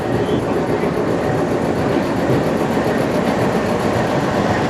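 A GU20 diesel locomotive, number 4565, hauls a heritage safari tour train, giving a loud, steady broadband rumble of engine and rolling wagons with no break over the whole stretch.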